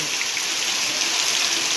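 A downpour drums steadily over the village of Surai, a loud, unbroken wash of rain close by with no pauses and no talking.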